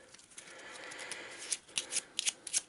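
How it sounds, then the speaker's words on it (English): A deck of cards for the Eldritch Horror board game is shuffled close by, first as a soft, steady riffle, then as several sharp, snappy flicks and taps near the end. "Another quick shuffle."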